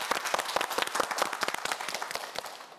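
A small studio audience at a quiz show claps, with sharp, distinct individual claps at first that thin out and grow sparser toward the end.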